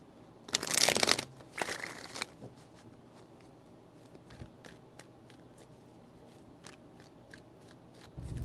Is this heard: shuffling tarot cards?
yes